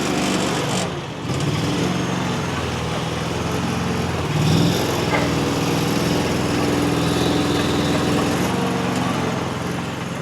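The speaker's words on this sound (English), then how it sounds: "I'm driving a road roller." A small road roller with solid metal wheels, about 2,600 pounds, has its engine running as it drives, giving a continuous nearby buzzing drone with a brief dip near the start.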